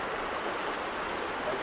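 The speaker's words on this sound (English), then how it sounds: "We had seen this waterfall on our previous Utah trip." A waterfall in a Utah canyon gives a steady, broad rushing roar with no voices or breaks.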